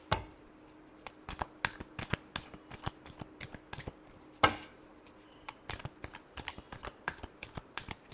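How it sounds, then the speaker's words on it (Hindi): Tarot cards are shuffled in quick bursts of crisp riffling and slapping, with sharp card snaps and short pauses between runs, close and fairly quiet with no talking. "last shuffle"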